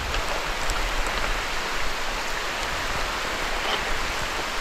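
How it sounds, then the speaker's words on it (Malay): Steady heavy rain falls with a constant hiss, drops pattering on surfaces close by, with no talking and no pauses in the downpour, during a flood. "Memang tak berhenti hujan ni."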